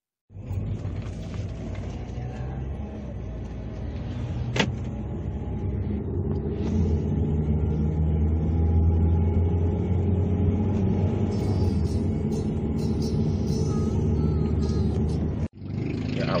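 Steady, fairly loud low engine rumble heard from inside a moving car, continuous throughout with no voices, cutting out briefly just before the end.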